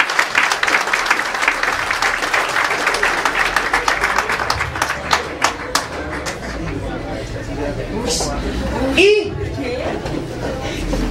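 A comedy show audience breaks into applause, dense clapping that starts loud and thins out over several seconds into scattered claps, with murmuring and a few voices mixed in.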